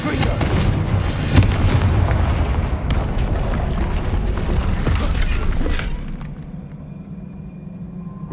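Spell-blast explosion from the Confringo spell in the game Hogwarts Legacy: a loud, dense boom followed by rumbling debris that fades into a quieter tail, with a brief spoken word at the start.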